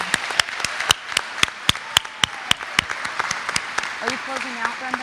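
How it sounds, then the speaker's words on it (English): Audience applause for inductees at a business honor society induction ceremony, sharp individual claps from a small crowd rising and falling over several seconds, with a voice speaking briefly near the end. "Let's give our inductees one big round of applause."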